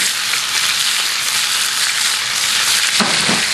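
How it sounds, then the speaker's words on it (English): Multicolored bell peppers sizzle loudly and steadily in a hot pan, a close, continuous frying hiss with a brief stir or clatter near the end and no speech. "I want to hear that sizzle."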